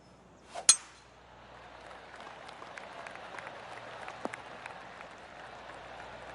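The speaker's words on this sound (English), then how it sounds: "Oh, golf clap." A sharp clink of a golf club striking the ball is followed by a soft, distant golf clap from a gallery crowd in a PS4 golf game, the polite light applause low and sustained.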